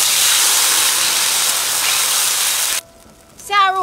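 Water pours into a hot wok of spicy bean paste, hot pot base, scallion, ginger, garlic and dried chilies, a loud roaring hiss that stops abruptly, followed by a brief voice.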